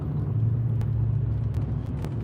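An old beater pickup truck's engine rumbles low and steady while driving, a continuous close drone with a few faint clicks on top.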